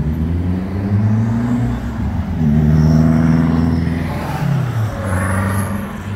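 Renault R5 Turbo cars driving past on a road, close and loud, their engine notes rising and falling as they accelerate and shift one after another.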